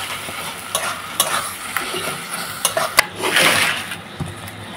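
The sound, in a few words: meat pieces being added to a pot on a clay stove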